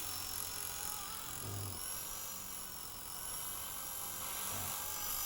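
An RC helicopter flies nearby, its rotor and motor producing a continuous high whine with a steady, even drone and no pauses.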